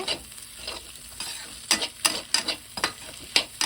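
Green beans fry in a hot pan for a beans and egg stir-fry, giving a soft continuous sizzle punctuated by sharp, roughly rhythmic knocks and scrapes of a spatula stirring them, heard up close.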